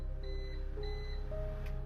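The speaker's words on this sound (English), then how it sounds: "heard the beep of the microwave" Microwave oven beeping as a podcast sound effect, two short evenly spaced electronic beeps followed by a steady tone over a constant low hum, close and moderately loud with no talk.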